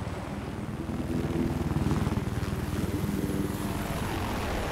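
Several helicopters in the Battlefield video game match on the Siege of Shanghai map, a steady, close rotor thrum with rapid, even beating that swells slightly in the middle and holds throughout, with no talk.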